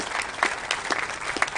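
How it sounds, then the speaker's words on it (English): Brief burst of scattered audience applause at an outdoor 2022 Memorial Day ceremony, a handful of distinct claps over a soft crowd murmur, close and fairly quiet. "Yeah, that deserves some applause."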